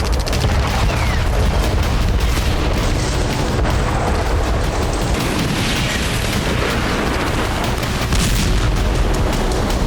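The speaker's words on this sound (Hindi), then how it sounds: "इसके बाद क्रीमिया के अलग अलग इलाकों में धमाके सुने गए।" Explosions ring out during overnight attacks on Crimea, forming a dense, continuous roar of booms and crackling blasts with no quiet gaps, loud throughout.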